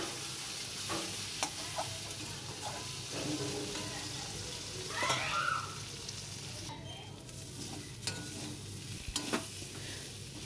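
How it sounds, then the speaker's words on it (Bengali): Spiced fish curry base sautéing in a pan on a village kitchen stove, with a steady low sizzle under repeated scraping stirs and occasional clinks of the spoon against the pan, close and moderately loud. "যার জন্য আমি এখানে কষিয়ে নিচ্ছি"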